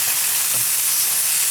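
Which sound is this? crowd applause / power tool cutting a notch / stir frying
stir frying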